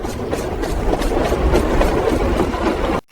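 A metro train thunders through an underground tunnel in a dramatized story scene, a dense continuous rumble with rhythmic clatter that cuts off abruptly at the end.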